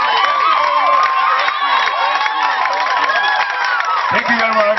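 A crowd at a debate and quiz award ceremony cheers and applauds loudly and continuously, with shrill shouts and whoops over a steady wash of clapping.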